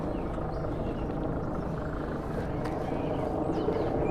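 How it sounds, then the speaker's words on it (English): A helicopter hovering above the lake in Central Park, New York City, gives a steady, loud, droning rotor roar that fills the whole stretch, with faint outdoor background sounds beneath it. "That super obnoxious sound is a helicopter that's just sitting above the lake right now."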